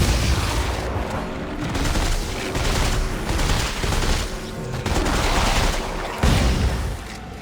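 Shotgun blasts in Dead Space 3 boom loudly and almost without a break, heavy reports overlapping into a continuous barrage amid in-game battle noise.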